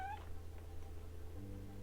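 A cat meows, a short plaintive call followed by a second one later, fairly faint over a low steady indoor hum.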